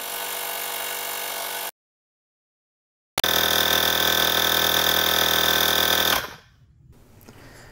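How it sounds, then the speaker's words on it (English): A portable rechargeable air compressor pumps a tyre up to 47 PSI, droning loud and steady close up, pausing for a second or so, then resuming its buzzing run before cutting off. "So it's a little bit loud as you'd expect an air compressor to be."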